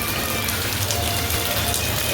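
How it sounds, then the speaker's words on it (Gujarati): Heavy rain pours down in Surat, a steady dense close hiss of drops drumming on surfaces that stays even and unbroken. "અહીંયા સુરતમાં હમણાં પાછો રાઉન્ડ લઈ લીધો છે વરસાદે"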